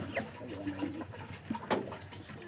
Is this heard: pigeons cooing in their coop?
yes